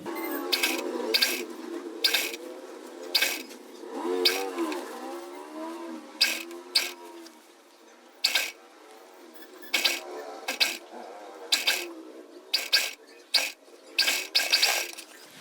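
A sewing machine stitches a flat collar onto a kurti in short runs of whirring, mechanical clatter. Brief sharp bursts and quiet gaps in between repeat steadily, close up, with no talk.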